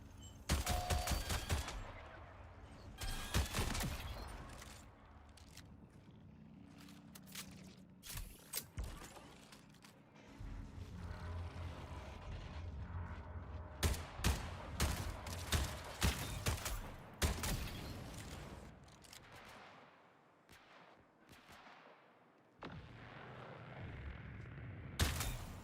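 Turret gunfire in the shooter game Concord (Marathon), bursts of rapid shots and mechanical clatter in repeated volleys with quieter gaps between, no talking.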